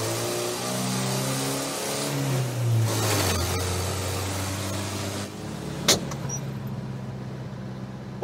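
A car engine runs nearby, its pitch rising and settling through a few revs before a sharp click and a drop to a quieter, steady idle.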